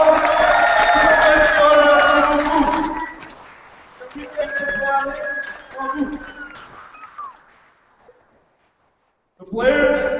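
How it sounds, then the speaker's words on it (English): A crowd at a blind hockey tournament ceremony cheers and whoops with raised voices that thin out to scattered shouts, fall quiet, then return briefly at the end. "A big round of applause,"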